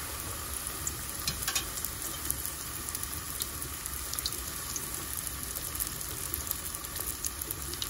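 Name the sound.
wonton dumplings wrapping meatballs and hot dogs deep frying in oil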